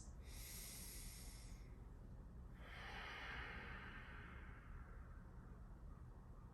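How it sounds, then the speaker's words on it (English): Ujjayi yoga breathing, in through the nose and out through the mouth with sealed lips: one long, close, hissing inhale, a short pause, then a slower, breathy exhale, with no talking. "Activate now your ujjayi breathing, which is inhaling through the nose and exhaling through the mouth with sealed lips."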